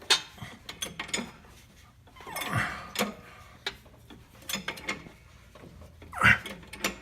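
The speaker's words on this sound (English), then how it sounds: "I'm going to try and jack the motor a little bit" Hand jack being pumped under a car to raise the engine while replacing motor mounts: a close series of soft mechanical clicks and ratchet-like ticks, with a few louder clanks and a sharp metallic knock near the end.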